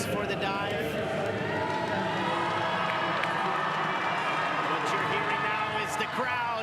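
A crowd at the women's 3m springboard diving final of the 2023 Diving World Cup in Montreal cheers and murmurs steadily, a broad roar with scattered shouts and claps beneath a commentator's voice.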